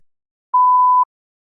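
A single clean electronic beep from a speaking test, a steady mid-pitched tone lasting about half a second, in otherwise total silence.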